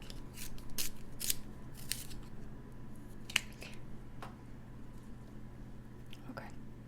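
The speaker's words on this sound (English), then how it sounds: "Needs more sharpening." A pencil is sharpened while drawing in a sketchbook, with a quiet, close series of crisp, short scraping bursts spaced irregularly and faint breathy whispering underneath.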